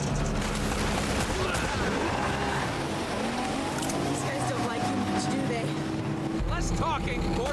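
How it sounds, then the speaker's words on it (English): Gunfire in Uncharted: Drake's Fortune, a fusillade of shots rattling amid engine and water-vehicle noise, with characters talking over the action throughout. "Talking, more shooting."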